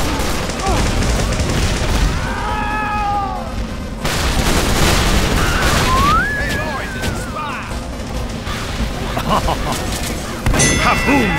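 Team Fortress 2–style video game combat sounds, with loud clangs, metallic dings and booming gunfire running continuously over game music, alongside in-game voices talking.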